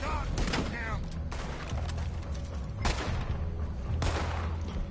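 Gunfire rattles through a shootout in the video game Red Dead Redemption 2, with loud, dense shots and booms layered over a constant noisy background and talk.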